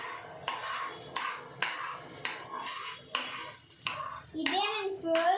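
Onions being stirred in a pan for Telangana-style chicken fry, a run of regular scraping strokes of the spoon against the pan, close and moderately loud, followed by a brief burst of voice at the end.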